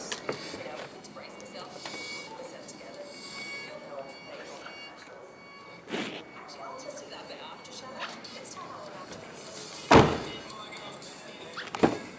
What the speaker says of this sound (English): Now let's close the boot.